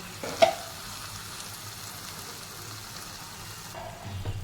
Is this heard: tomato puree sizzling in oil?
yes